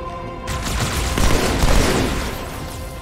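Burst-fire gunshots in Halo 2: a dense, loud, continuous run of rapid shots with booming low end, close and sustained for several seconds.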